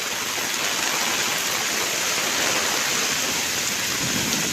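A Mumbai monsoon downpour roars steadily, with a low rumble of thunder blending in beneath the constant hiss of the rain.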